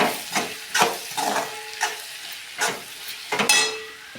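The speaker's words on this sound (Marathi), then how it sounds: "कोथंबीर टाकून मिक्स करून घेऊ" Chopped coriander being stirred into a sizzling capsicum curry, with rhythmic spoon scrapes and clinks against the pan over a steady frying hiss, close and fairly loud.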